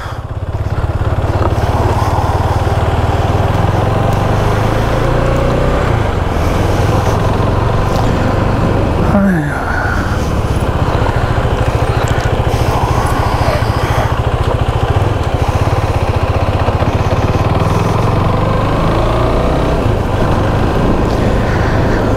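KTM Duke motorcycle ridden through city streets, its engine droning steadily and loudly up close for the whole stretch with a brief dip partway, plus wind and road noise.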